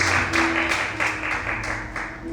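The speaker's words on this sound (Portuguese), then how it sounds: "Você pode aplaudir o Senhor nessa noite?" A church congregation claps together during an evening service, a steady dense wash of applause with rhythmic pulses, fairly loud and close, with a sustained musical tone underneath.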